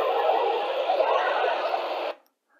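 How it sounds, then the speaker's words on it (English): A Yaesu FT-65/FT-4X handheld radio in VFO mode hisses with dense, steady static for about two seconds, then cuts off abruptly into silence. "it went to something that was catching one heck of a lot of static"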